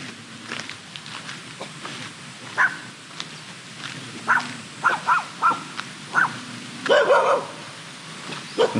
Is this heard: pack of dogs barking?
yes